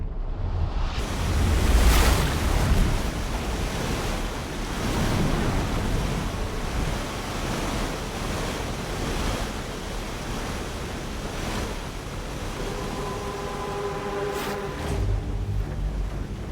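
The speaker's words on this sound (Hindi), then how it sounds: "पानी 17 नंबर पिलर तक पहुंच गया है। पानी का बहाव तेज है" Fast-flowing floodwater rushes and surges against a bridge pillar in a movie action scene, a loud continuous roar with wind buffeting the microphone and swelling waves throughout.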